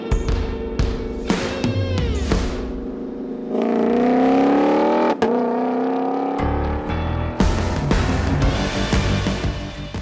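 A Ford Mustang GTD road-legal race car drives hard, its engine revving loudly through rising gear pulls with sharp shift breaks, a sustained high-revving drone in the middle and a sudden cut before it picks up again.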